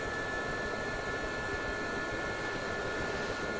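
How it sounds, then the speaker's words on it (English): Gazelle helicopter engine in a flight simulator video game, a steady, even turbine whine and rotor hiss heard from inside the cockpit, constant and unbroken with no talking. "I hopped in the helicopter with him."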